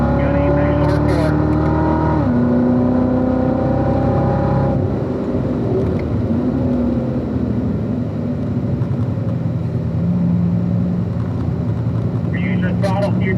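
Race car driven on the Spring Mountain track, engine revving up and shifting before easing off, then cruising, loud and close throughout with a driving instructor talking over it.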